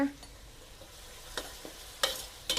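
Minced pork chili paste with herbs, seasoned with sugar and fish sauce, sizzles quietly in a pan, with a few scattered spatula scrapes standing out from a faint, steady frying hiss.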